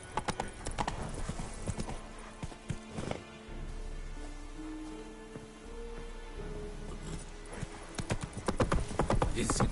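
Roach the horse gallops in The Witcher 3, fast hoofbeats rolling in bursts at the start and end with a quieter stretch of ambience and music between, and faint game voices mixed in.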